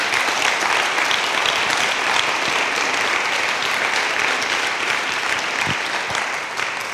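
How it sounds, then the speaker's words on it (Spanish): Loud, steady applause from an audience at a mental health congress on obsessive-compulsive disorder, filling the whole stretch with dense clapping that thins slightly near the end. "Un aplauso muy grande para ellos."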